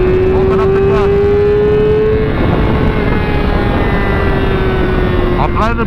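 A motorcycle engine drones loudly and steadily up close while riding, its tone holding fairly even under heavy wind rush for the whole stretch.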